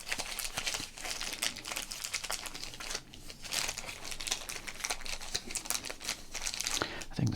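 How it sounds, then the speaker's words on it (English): A Score baseball card pack is crinkled steadily and close up, its plastic wrapper giving off a continuous soft crackling rustle that runs the whole length without a break. "We'll break this pack here after we do some crinkling."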